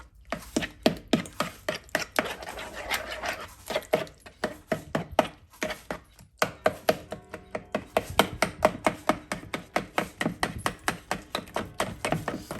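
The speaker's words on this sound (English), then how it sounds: "I'm just breaking up those sardines really good" Sardines and mushrooms being broken up in a pan for sardine stroganoff, a utensil tapping and scraping against the pan in a steady, close rhythm of sharp knocks that carries on throughout.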